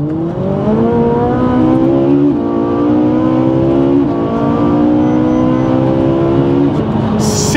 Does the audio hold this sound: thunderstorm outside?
no